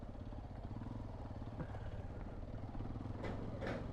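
Hero XPulse 210 motorcycle riding over potholes, its engine a steady low throbbing drone with faint clatter and a brief higher whoosh near the end.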